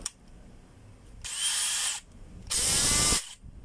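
A handheld power drill on its second speed setting runs in two loud, steady bursts of about a second each, separated by a short pause, with a high whining motor tone.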